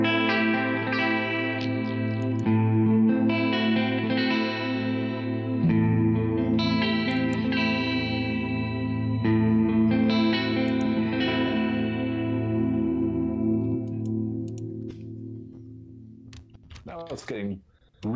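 Electric guitar played through a Boss TE-2 Tera Echo pedal on a chorus setting, sustained shimmering chords with lush modulated echo tails swelling and overlapping, loud and close, ending in a brief scratchy noise.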